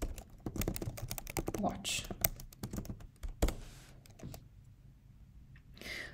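A command is typed on a computer keyboard in a terminal, a quick run of close, crisp key clicks with a heavier keystroke near the middle, while a person talks briefly.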